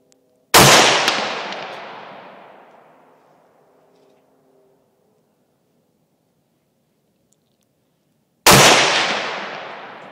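Two loud AK-47 rifle shots fired outdoors, about eight seconds apart, each a sharp blast followed by a long rolling echo that fades slowly into silence.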